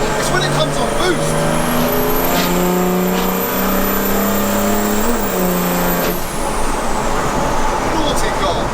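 Heavily modified mail van engine revving hard on boost, its rising note climbing and holding with a high turbo whine on top, then dropping away as the throttle lifts; loud and close, with people talking over it.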